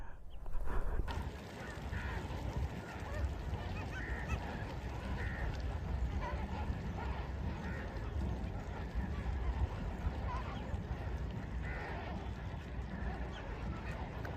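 Dense flock of flamingos honking and calling continuously at a distance, a steady outdoor chorus with no talking.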